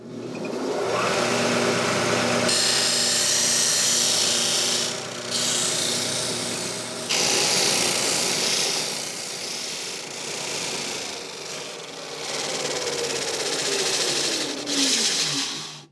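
A loud, continuous abrasive rasp of wood being sanded on a disc sander, cutting in and out in several long passes with a steady motor drone.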